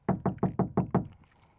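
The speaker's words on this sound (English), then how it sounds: "That's me knocking on the wall." Six quick, evenly spaced knocks on a wall, close and fairly loud, followed by a faint fading tail and no speech.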